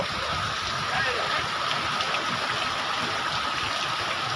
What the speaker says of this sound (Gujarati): વરસાદ વરસાદની ફૂલ મોજ લેતા હો મિત્રો